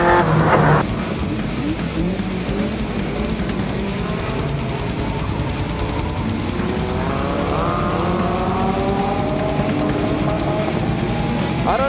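Race car in a nighttime video game enduro race with skid plates, engine droning loud and steady throughout, with shifting revs and tire squeal, no voices.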